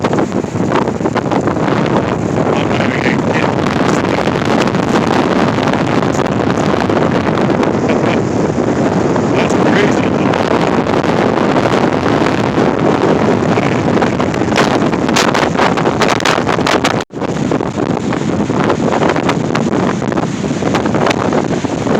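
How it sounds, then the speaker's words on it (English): Strong wind roaring across the microphone at South Beach in South Haven, Michigan, a loud continuous buffeting gust with the rush of big waves beneath, barely letting up. "Man, that wind is really something."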